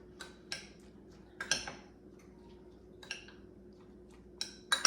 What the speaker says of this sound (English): Then we're just gonna stir this together